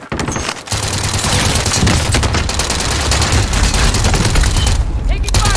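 Call of Duty Warzone gunfire on Rebirth Island rattles in dense, loud automatic bursts and sustained fusillades, with a brief pause early on and a faint voice occasionally under the shooting.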